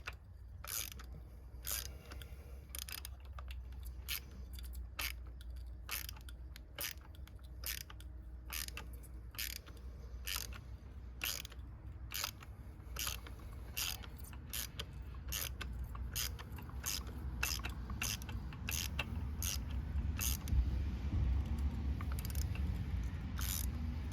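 A ratchet clicks in quick bursts while a spark plug is run in and backed out on a 2017 Hyundai Elantra, with a long series of sharp, close clicks and short pauses between strokes.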